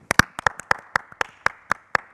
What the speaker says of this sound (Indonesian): Tepuk tangan buat Mas Holid.